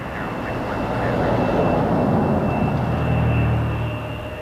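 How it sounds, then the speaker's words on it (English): An Embraer 175 airliner takes off from Toronto Pearson, a broad, steady jet engine roar that swells and holds loud throughout, with a faint whine riding above it. "another Embraer, but this time a 175"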